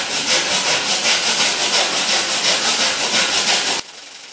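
A hand saw cuts a 45° miter by hand through wood edge-banding, making steady, rhythmic back-and-forth rasping strokes, loud and close, for nearly four seconds before stopping abruptly.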